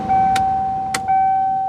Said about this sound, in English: Blower motor resistor is working.